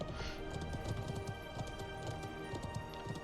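Horse hooves gallop in the video game Conqueror's Blade, a fast, even run of clip-clop beats over a busy battle background.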